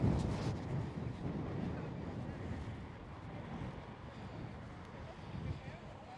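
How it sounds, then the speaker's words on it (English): Wind buffets the microphone during a city walk through central Copenhagen, a constant low rumbling roar with gusts that swell and ease throughout. "definitely there is quite a lot of wind."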